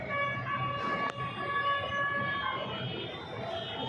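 A metro train rumbles steadily with a sustained high whine as it runs along its track at Akurdi, with a brief sharp click partway through.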